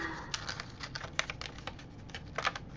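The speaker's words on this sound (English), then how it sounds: "Don't turn the blade, but turn the paper. And then it cuts like butter." A craft knife cuts paper on a glass cutting mat, making a quick series of faint, light ticking clicks and scratches in an irregular rhythm, close and quiet.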